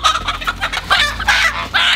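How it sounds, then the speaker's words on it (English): Homestead chickens perched before dawn cluck loudly and busily close by, with overlapping squawks and a rooster-like crowing call among them, continuous throughout with no talking. "We've got to catch these chickens for Grandma"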